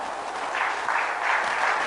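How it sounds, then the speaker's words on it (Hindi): Audience applause at a live satsang spiritual gathering: a soft, steady wash of clapping lasting a couple of seconds, fairly distant and even, with no talking. "तालियां।"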